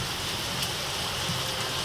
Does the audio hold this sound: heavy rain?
yes